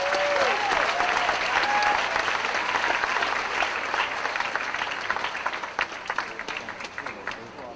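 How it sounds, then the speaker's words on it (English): A crowd applauds a doctoral graduate at a university commencement ceremony, dense sustained clapping that gradually thins and fades toward the end, with a few brief whistles or cheers near the start. "Let's give a big round of applause to the doctoral graduate."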